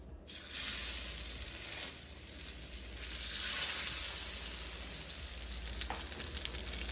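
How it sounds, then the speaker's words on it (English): Butter browns in olive oil in a frying pan, cooking for honey garlic salmon steaks, giving a steady, close, moderately quiet sizzle that holds throughout without talk. "So I let the butter brown a bit."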